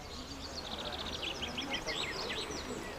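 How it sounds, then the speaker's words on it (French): Birds sing in a quiet garden almost in the middle of Alençon, with repeated high chirps and short trills coming quickly one after another over a soft, steady background hush. "on écoute. Il y a juste des oiseaux."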